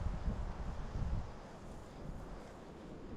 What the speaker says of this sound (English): Now the wind's blowing the other way.